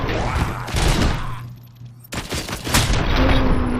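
Rapid bursts of gunfire from shooting enemies in RoboCop: Rogue City, loud and close, a dense volley, a brief lull, then another heavy round of shots.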